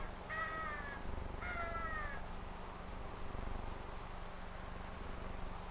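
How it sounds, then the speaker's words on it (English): Two drawn-out crow caws close together near the start, moderately clear over a low, steady background hiss, then the remaining seconds stay quiet apart from that hum. "The crow is a permanent resident in many parts of the country."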